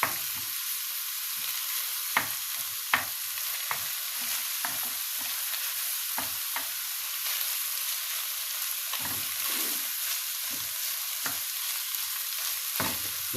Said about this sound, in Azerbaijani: Böylece karıştırırıq.